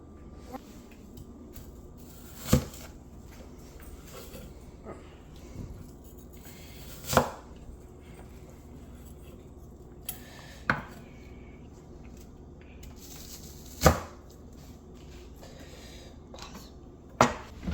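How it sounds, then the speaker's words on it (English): A knife chops carrots and celery on a board in sharp, isolated thumps spaced a few seconds apart, moderately close, with a faint room background and no talking. "Mom is cutting the carrots and celery and the mushrooms"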